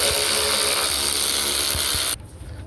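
A ratchet fitted with a Torx bit turns a water pump bolt on a 2002-2012 Jeep Liberty 3.7L V6. A steady, loud, close grinding whir runs for about two seconds, then cuts off abruptly.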